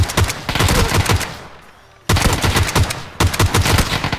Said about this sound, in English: Shoot. Ah, shoot.